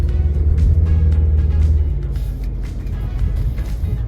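A 2023 Mazda CX-50 SUV drives off-road over a hill, a steady, loud low engine rumble with rough driveline noise that eases slightly partway through, with no talking.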